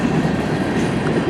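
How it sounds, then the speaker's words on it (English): Long CN M399 westbound freight train rolling past in Port Huron, Michigan on a cold winter evening, a steady loud rumble of rail cars and wheels filling the whole moment without pause. "It's a long train."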